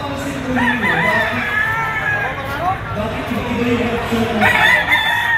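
Boston Roundhead gamefowl roosters at a crowded gamefowl expo crow repeatedly, long, drawn-out calls overlapping near and farther off, under someone talking and a busy crowd murmur.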